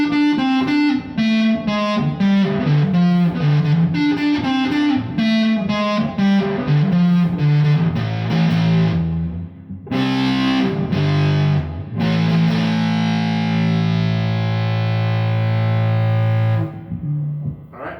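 Electric guitar played through a Champion fuzz pedal, a thick distorted riff of rapid picked notes, then sustained fuzzy chords ringing out, loud and alone.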